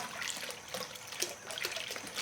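Water pumps through a VDI gold sluice at a mine with a faint, steady trickle and splash, quiet and continuous, with no voices.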